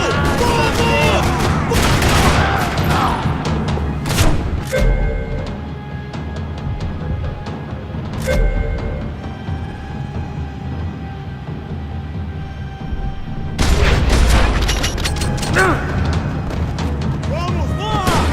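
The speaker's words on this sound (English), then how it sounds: "Another parking lot rattling with gunfire." Rapid bursts of gunfire crackle through a parking lot shootout in the video game Max Payne 3, loud and close, with dense overlapping shots at the start and again near the end, separated by quieter stretches.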